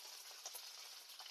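Curry leaves sizzle in hot oil where mustard seeds have already spluttered, tempering for a raw banana dish, making a steady, faint hissing fry with a few tiny pops.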